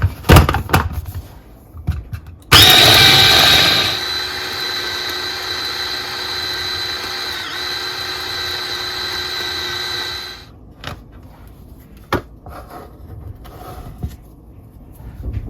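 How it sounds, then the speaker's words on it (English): A small kitchen blender whirs loudly as it purees green seasoning with vegetable oil, a steady motor drone starting abruptly and running for several seconds before cutting off, with quieter handling sounds around it. "And now we're gonna blend this."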